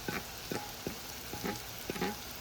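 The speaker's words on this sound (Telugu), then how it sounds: "ఇక్కడ ఆనియన్స్ గార్లిక్ మంచిగా ఫ్రై అయిపోయింది" Onions and garlic frying in a pan, with a steady sizzle broken by regular soft scraping strokes about twice a second, close and fairly loud, with no voices.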